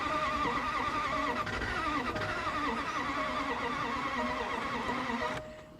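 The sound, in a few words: Range Rover engine cranking but failing to start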